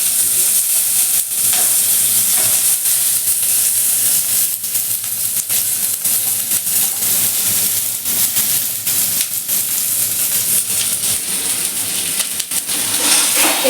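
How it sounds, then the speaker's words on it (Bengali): Chopped onion and garlic frying in oil in a pan while being stirred, a loud continuous sizzle with repeated scraping and clinking strokes of the spatula, close by and without speech. "এবার পেঁয়াজটা একটু নেড়ে নিচ্ছে। পেঁয়াজ আর রসুনটা তেলে দিয়ে দিয়েছে।"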